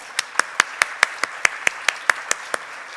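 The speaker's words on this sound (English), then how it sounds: "we are happy to applaud" Keynote audience at an industry forum in the Portland Art Museum giving a sparse, slow round of distinct claps, a dozen or so sharp evenly spaced hand claps standing out clearly.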